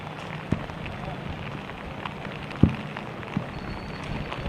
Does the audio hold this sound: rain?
yes